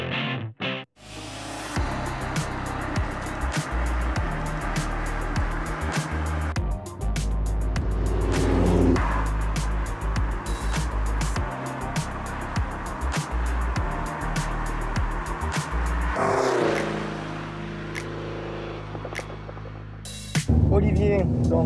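A 1982 Lotus Esprit S3 sports car being driven, its engine and road noise heard from inside the car with shifting revs throughout, while occupants talk in French over it.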